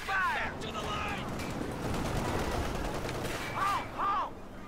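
A video game battle rumbles with dense, continuous gunfire and explosions, with whistling shells arcing overhead near the start and end, all beneath shouted voices.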